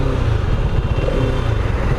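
Hero Xtreme 250R motorcycle pulling hard on a road, a loud, steady, low engine drone with a throbbing exhaust pulse heard up close from the rider's position, no speech over it.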